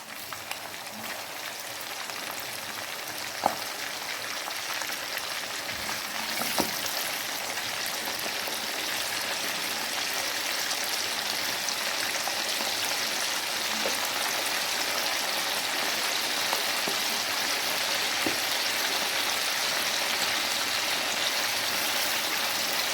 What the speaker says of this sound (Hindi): मैं सारे इसमें गोश्त के 5 पीसेस डालती जाऊंगी और इनको फ्राई करती जाऊंगी